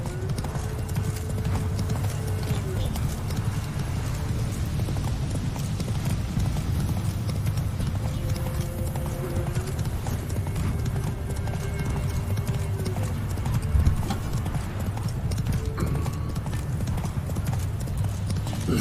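Roach, the horse in The Witcher 3: Wild Hunt, gallops in game with a steady rapid clip-clop of hooves throughout, alongside a whinny and a low constant rumble.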